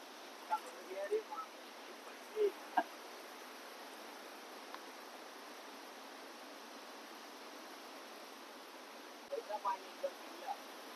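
A reddish river flows past farm fields, a steady, broad, moderately faint rush of water that runs unbroken throughout, with a few short bursts of voice over it.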